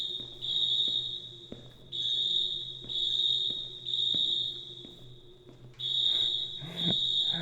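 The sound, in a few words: blaring school fire alarm in the video game Senior Sunset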